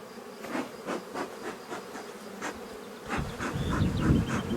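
Honey bees buzz steadily around beehives during an amateur beekeeper's late-May hive inspection, a dense, continuous drone close to the microphone with individual bees passing by, growing louder near the end.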